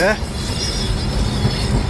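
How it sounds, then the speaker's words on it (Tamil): A coal-laden freight train rumbles past close by, a loud, heavy mechanical roar filling the whole moment. "நிலக்கரி எடுத்துக்கிட்டு ட்ரெயின் வருது கூட்ஸு"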